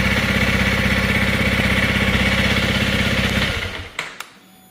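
A Honda CRF 300L motorcycle engine idles steadily and loudly up close, then is shut off and winds down, followed by a couple of short clicks and near silence.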